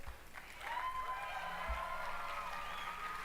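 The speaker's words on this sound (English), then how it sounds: "Why would you clap at something like this?" Studio audience at the Xbox One reveal event breaks into steady applause and light cheering, faint and distant, building after a brief quieter start and holding throughout.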